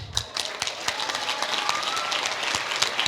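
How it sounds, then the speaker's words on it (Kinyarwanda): Loud, sustained applause from a crowd for a children's dance group performance, with dense, steady clapping and a few sharper individual claps standing out throughout. "amashyi cyane kuri Tomorrow Kids ladies and gentlemen"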